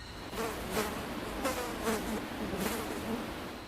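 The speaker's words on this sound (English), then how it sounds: "In the next video titled Daisy and Friends, the sound of flies can be heard buzzing." Flies buzz continuously around a room, a dense close drone with several louder passes as insects fly near, steady in level throughout.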